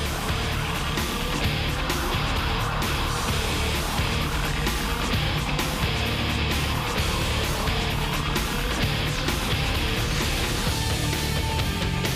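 Whelen Southern Modified Tour race cars roaring together at the start of the 2010 Strutmasters.com 199, a dense, loud, continuous engine drone with no break.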